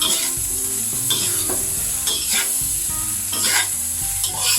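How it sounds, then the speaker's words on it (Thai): Thai shrimp fried rice with Hong Kong kale being stirred in a pan after the heat is turned off, a spatula scraping and clanking in an uneven rhythm over a steady frying sizzle, close and fairly loud with no voices. "ถึงปิดไฟแล้วเราก็ต้องคนต่อ เพื่อที่จะผัด กับข้าวเนี่ยเราจะได้ทั่วถึงค่ะ"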